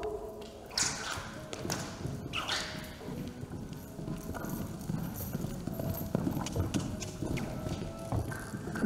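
An Icelandic horse canters on an arena surface during a breeding show evaluation, with steady rhythmic hoofbeats close by throughout and a brief snort or whinny-like sound early on.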